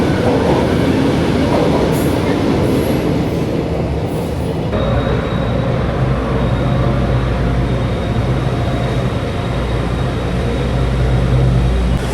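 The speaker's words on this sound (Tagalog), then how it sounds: "Sakay na kami ng train, guys." A local commuter train in Taiwan rolls along with a loud, continuous rumble heard from inside the carriage, with steady wheel noise and faint brake squeals early on.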